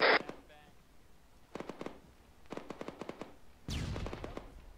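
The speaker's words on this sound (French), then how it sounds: "Il y a des tirs à notre ouest, dans notre bord de la rue." Bursts of distant automatic gunfire come from the west in a tactical shooter game, short rapid volleys repeating every second or so, with a louder blast at the end.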